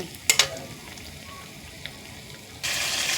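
Chital fish, coated in salt and turmeric, lands in a hot pan; a couple of sharp clicks are followed by quiet, and then a loud, steady sizzle of frying bursts in near the end.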